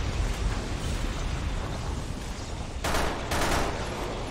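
Gunfire in the video game Resident Evil 6 arrives as a dense, continuous roar of shots and blasts, with two louder bursts standing out near the end, loud and up close with no talk.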